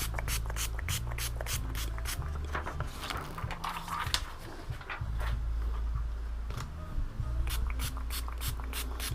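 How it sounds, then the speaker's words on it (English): Repeated short hissing bursts of an aerosol spray adhesive, close and fairly loud, in quick rhythmic pulses over a low background hum. "Spray the adhesive."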